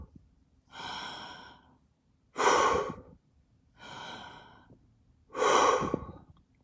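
Four slow, deep, dramatic breaths alternate close to the mic, softer inhales followed by stronger, airy exhales with quiet pauses between each.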